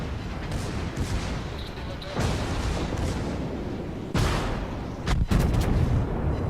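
Naval cannon fire in World of Warships: several heavy booming salvos, loud and close, spaced a second or two apart, with French commentary talking over the battle noise.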